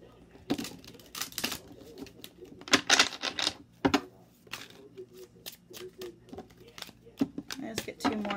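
A tarot card deck being shuffled by hand, with repeated crisp riffling and flicking bursts in short clusters, fairly close and moderately loud, while a voice speaks intermittently over it.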